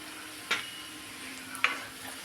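A pan of food is stirred right after asafoetida goes in, with two short scraping strokes of the spoon over a faint, steady sizzle.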